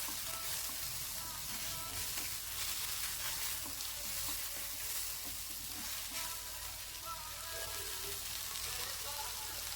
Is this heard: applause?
no